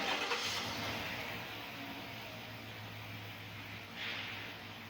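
A car engine with an ignition misfire idles quietly with a steady low hum and soft background hiss, rising slightly near the end.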